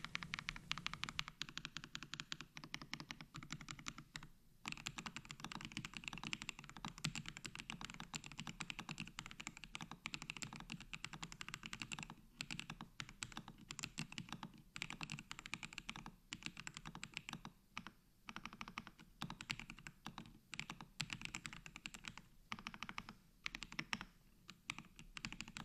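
Steady, fast typing on a mechanical keyboard with lubed switches and foam modding, soft, muted thocky keystrokes in a continuous stream and short pauses, close up and alone.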